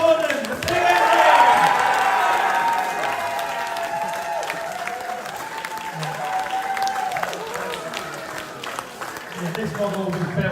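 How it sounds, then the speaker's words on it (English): An audience applauds for a model of Gordon the big engine at a little engines weekend, with crowd clapping and some cheering that is loudest at first and then settles into steady clapping under a voice. "another round of applause,"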